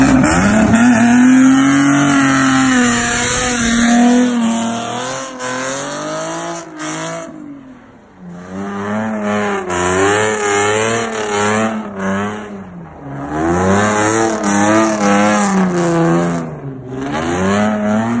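A V6 Ford Mustang engine revs loudly and close, its pitch climbing and falling in repeated sweeps, with a brief dip in the middle before the revving builds again.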